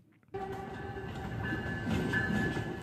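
A new Amtrak train in motion, heard from inside a business-class car: the quiet cuts to a steady low rumble with faint hum and rattling that builds slightly, with no talking.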